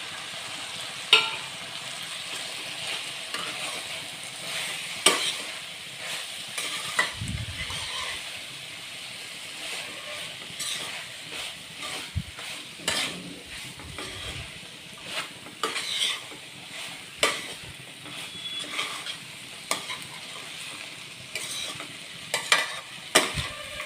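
Poha (flattened rice) with garam masala stir-frying in a pan, a steady soft sizzle broken by repeated scraping stirs of a spatula, close up, with no talking.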